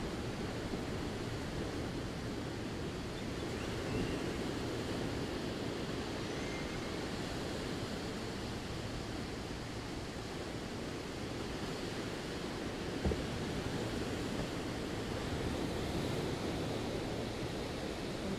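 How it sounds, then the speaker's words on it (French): Ocean waves wash in a steady, even roar of surf with no distinct breaks, a constant hissing rush of water heard alone at moderate level throughout. "comme le son des vagues"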